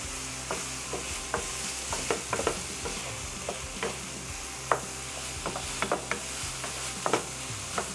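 Beef and onion sizzle in a pan while a utensil stirs them, scraping and clicking at irregular intervals over a soft, constant frying hiss; close and fairly quiet, with no voices.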